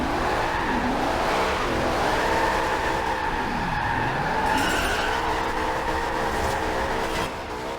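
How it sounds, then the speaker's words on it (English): A 1975 Ford Bronco Ranger drifts and spins out, its tires squealing and skidding in long wavering howls over a steady engine drone, close and loud with no talk. "Coming back into the second loop, and as usual I spin out and smack a pole."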